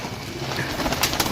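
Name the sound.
pigeons cooing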